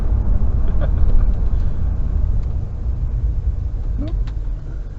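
Steady, loud low rumble of passing cars on a busy road, a continuous wash of vehicle noise with no break in its flow.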